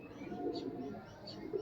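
Lakkha pigeons coo softly in a loft, the low murmuring calls rolling on under faint background noise.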